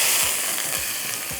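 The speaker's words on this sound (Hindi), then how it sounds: "अब ये जाएगा यहाँ पर तड़का" Hot oil tempering, a tadka, poured into chicken karahi, hissing in a dense, loud, steady sizzle with faint scraping clicks underneath, close and without talking.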